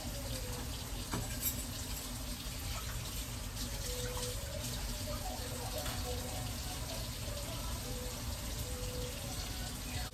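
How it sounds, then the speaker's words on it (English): Water runs steadily from a kitchen tap in the background while pork soup is cooked, a constant soft rush with faint clinks and a voice now and then. "My water was running and it probably sounded a little ruffly"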